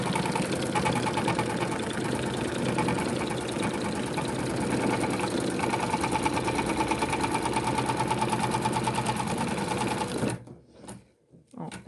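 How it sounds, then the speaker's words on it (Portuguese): An embroidery sewing machine stitches around a fabric tag to attach the lining, giving a loud, fast, continuous mechanical chatter that stops abruptly near the end, followed by a few faint clicks. "então agora a máquina vai fazer a costura ao redor da tag pra prender o forro"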